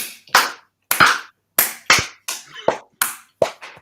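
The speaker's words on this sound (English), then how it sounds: "clap for last night" Sharp, isolated claps ring out one at a time in an irregular rhythm, each a loud crack with a short decay, about eight over a few seconds, close to the microphone with no talking.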